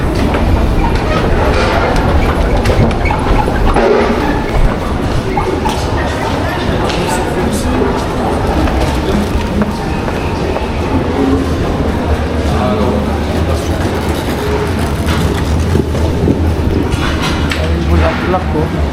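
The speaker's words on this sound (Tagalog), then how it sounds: "So, punta na tayo sa subway train." Subway train ride in Cologne: a continuous rumble and rattle of the carriage with clacking over the rails, steady and fairly loud from inside the car.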